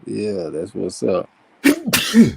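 Someone talks briefly, then a loud, close sneeze bursts out after a short pause.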